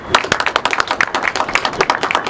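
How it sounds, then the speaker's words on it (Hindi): Audience members clap at a pigeon-flying club award ceremony in Jharkhand, a few nearby hands producing sharp, distinct, slightly uneven claps in a quick rhythm, fairly close and loud, with no talking. "जोरदार तालियां होनी चाहिए।"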